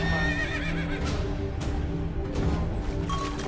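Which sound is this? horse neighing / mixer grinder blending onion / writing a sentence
horse neighing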